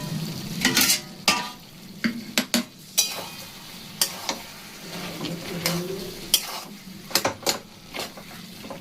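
Poppy seed paste frying in a pan while being stirred, with a splash of water from rinsing the grinding stone; repeated scraping clinks of a spatula rise over a low, steady sizzle, with no talking.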